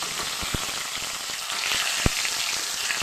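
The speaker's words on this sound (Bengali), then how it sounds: "একটু ভেজে নেব।" Whole cumin and dried red chillies crackle in hot oil with grated ginger, a tempering for mung dal; a steady close sizzle with a few sharp pops and spits, no voices.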